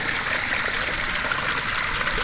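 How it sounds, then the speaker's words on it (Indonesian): Steady rushing gurgle of a river stream flowing beside green rice fields, continuous and fairly close with no pauses, no voices over it. "Suara gemericik air itu"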